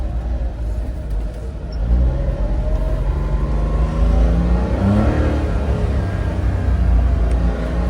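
A car engine in a small Osaka car yard rumbles low and steady close by, swelling as the driver accelerates into a short, gentle spin with no one talking.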